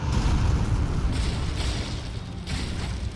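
Fire orb exploding beside the Fire Giant in a video game, a deep rumbling blast that roars loudly at first then tails off into a long crackling rumble.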